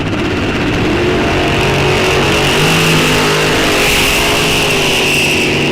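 A Super Pro dragster launches down the strip at a drag race, a loud sustained engine roar that stays strong throughout as the car accelerates away, with a second racer's engine sounding alongside.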